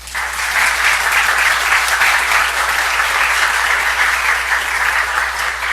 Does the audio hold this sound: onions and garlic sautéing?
no